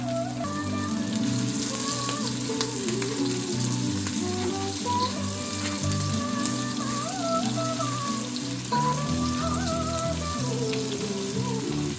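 Chopped tomato and mint leaves frying in a pan for tomato rice, a steady close sizzle and crackle running throughout with faint music underneath and no talk.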